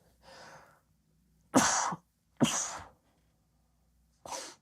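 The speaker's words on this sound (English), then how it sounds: "Man, I love sneezing live on air." A breathy intake followed by two sharp sneezes in quick succession, then a third lighter sneeze after a pause, close and loud.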